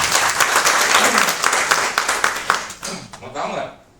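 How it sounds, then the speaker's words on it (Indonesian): A church congregation applauds during a Saturday worship service, with brisk clapping from many hands that thins out and fades, and a voice speaks over the tail as it dies away. "Tepuk tangan buat mereka."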